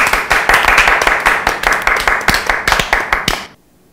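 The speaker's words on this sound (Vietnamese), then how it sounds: "Vỗ tay" Several people clap together in a fast, uneven patter of distinct hand claps, close and fairly loud, stopping abruptly near the end and leaving near silence.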